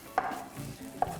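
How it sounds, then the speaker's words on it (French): Two crisp knife strikes on a cutting board while coarsely chopping garlic, spaced about a second apart, close and fairly quiet, with no talking. "Je vais quand même hacher l'ail grossièrement"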